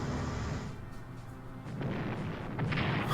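Deep, rumbling booms of naval battle explosions in the Strategic Command World at War strategy game, layered and continuous, with a heavy low roar that swells again near the end.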